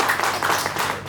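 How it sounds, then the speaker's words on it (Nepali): Audience applause for the host at a Nepali entertainment event, a continuous wash of many hands clapping, steady and fairly loud for about a second with no pauses. "उहाँको लागि पनि जोरदार ताली बजाइदिनुहोस्"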